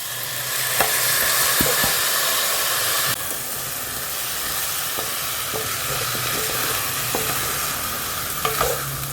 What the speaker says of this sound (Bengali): এবার মশলাপাতি দিয়ে একটু ভালো করে কষবো।